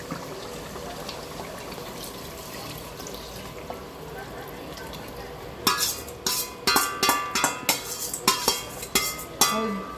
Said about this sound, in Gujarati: હવે આપણે બનાવીને ગ્રેવી નાખી દઈએ